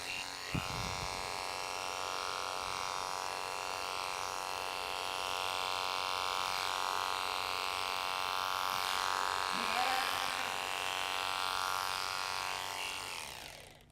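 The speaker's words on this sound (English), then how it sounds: "So I like to make one or two little passes right here." Electric clippers buzz steadily while shearing the belly of a Southdown sheep, a continuous close motor whine that runs throughout with a brief clatter near the start.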